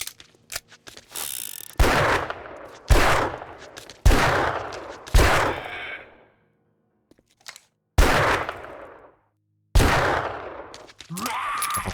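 Magnum gunfire in a French-language livestreamed video game, six heavy booming shots spaced a second or two apart, each with a long echoing tail, loud with no talk over them.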